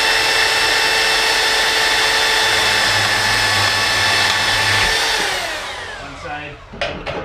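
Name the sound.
portable band saw cutting steel steering link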